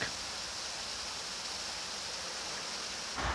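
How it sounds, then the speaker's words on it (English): Water rushing out of a draining canal lock at Stoke Bruern: a loud, steady, unbroken roar that holds at one level for the whole stretch, with no voices over it. "The water rushes out as we drain the lock."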